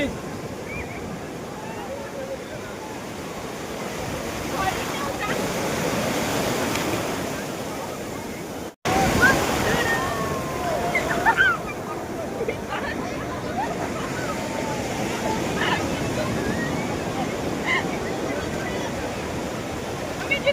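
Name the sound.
sea waves breaking on the beach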